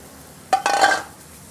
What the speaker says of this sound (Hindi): हल्के हाथों से इसे मिक्स करते रहेंगे